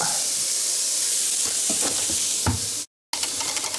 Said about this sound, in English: And give that another stir